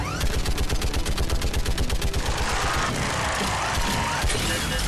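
Turret gunfire in Mass Effect 3, fast loud bursts of rapid shots dominating the first half, then giving way to a rumbling mix of explosions and battle noise.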